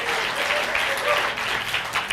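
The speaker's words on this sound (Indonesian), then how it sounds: "Boleh kasih tepuk tangan yang paling meriah buat Yesus Tuhan kita" Enthusiastic crowd applause for Jesus at a church service, a dense, steady wash of clapping filling the whole moment with a few voices mixed in.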